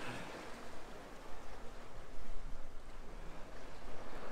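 Sea backwash washing over rocks on a fishing shore, a broad rushing, hissing surge of water that swells and recedes, steady and fairly close with no talk.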